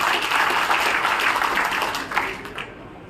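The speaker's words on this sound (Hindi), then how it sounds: "उनके लिए जोरदार ताली बजाए" A crowd at a political party workers' meeting gives enthusiastic applause. The clapping is dense and loud for a few seconds, then tapers off with a few last scattered claps.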